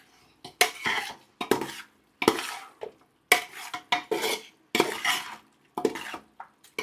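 Chicken gravy stirred vigorously in a pan, a run of loud rhythmic scraping strokes of a spoon against the vessel with brief pauses between bursts and a faint sizzle.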